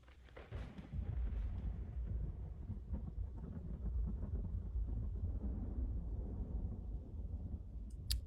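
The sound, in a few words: thunder sound effect from a video game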